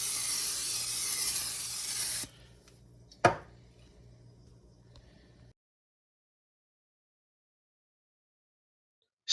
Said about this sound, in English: I'm getting ready to apply the cooking spray onto the pan like so.